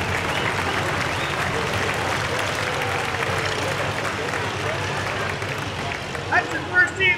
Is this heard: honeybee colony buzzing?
no